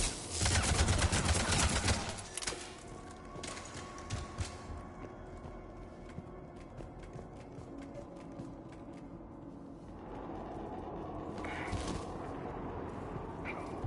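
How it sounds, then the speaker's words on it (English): Gunfire in the video game Mass Effect 3 opens with a loud, dense burst of rapid shots, followed by scattered distant cracks and thuds over a low battle ambience. "Shepard, I hear gunfire"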